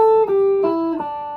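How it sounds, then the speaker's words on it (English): Guitar notes of a minor pentatonic scale step downward one after another, each plucked tone ringing clearly into the next, close and clean with no talking. "So if we descend the scale, it should sound like this."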